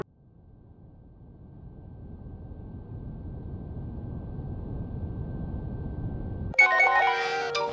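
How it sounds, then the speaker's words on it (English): Phone notification ringtone bursting in abruptly with a bright, layered chiming jingle after a long stretch of rising hiss and low rumble. "Holy shit, my phone's blowing up."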